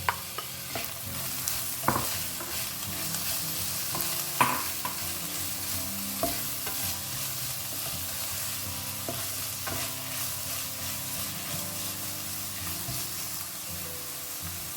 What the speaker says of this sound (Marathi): तो क्लैम्स को ना मैंने यहाँ पे 1 मिनट के लिए अच्छे से भून लिया है